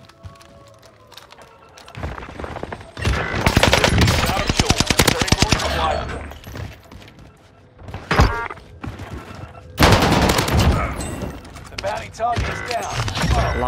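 Rapid automatic fire from an NZ41 rifle shooting incendiary rounds in Warzone, loud close bursts of tightly spaced shots in two main volleys with short gaps between them, a few single shots in between and some voice chat underneath.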